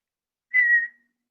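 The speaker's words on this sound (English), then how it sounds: "I whistle to the other two living ones." One short, clear whistled note, steady in pitch and fading away, alone in silence.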